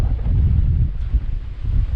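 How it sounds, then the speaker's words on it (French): Sandstorm wind buffeting the microphone at a nomad shelter on the wild Mauritanian coast between Nouadhibou and Nouakchott, a continuous loud low rumble with gusty swells throughout. "Quand il y a un vent de sable comme aujourd'hui,"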